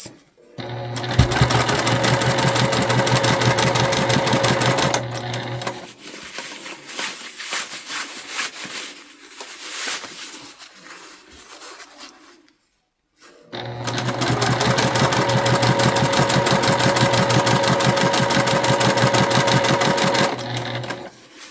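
A sewing machine stitches a fabric scrunchie in two long, loud, steady runs of rapid rattling, separated by a quieter stretch of handling noise and a short silence.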